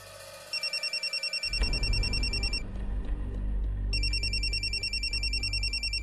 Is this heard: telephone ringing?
yes